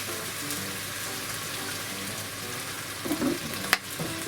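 Soy sauce, two to three tablespoons, goes into a hot pan of lightly cooked scallions with the flame just turned off, giving a steady, close sizzling hiss that ends in a brief sharp clink. No one speaks.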